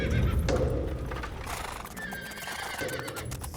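A horse neighs loudly and close, with a long whinny over rumbling hoof clip-clop and handling noise on what looks like a film set.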